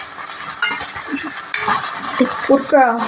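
Okra being stir-fried in a pan for a sambar makes a close, soft sizzle under clattering spatula strokes and metallic scraping against the pan, in short irregular bursts.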